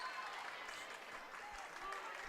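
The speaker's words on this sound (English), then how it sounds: "the Kindred fans clap, trying to spur on their defense" Spectators at a North Dakota girls basketball state qualifier clap in a steady, distant patter, while a commentator talks over them.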